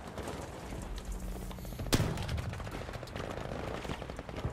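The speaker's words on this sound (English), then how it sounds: "Stop shooting at me." Gunfire crackles through a Battlefield V match: bursts of rapid shots and one sharp loud crack amid dense, busy battle noise, with no talk over it.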